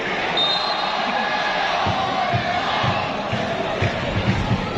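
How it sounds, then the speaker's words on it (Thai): Muang Thong United supporters cheer and chant at a Thai League match against Chonburi FC, a dense, steady stadium roar that holds at full volume throughout with rhythmic thumps beneath it. "ดูครับ กองเชียร์เมืองทองครับ"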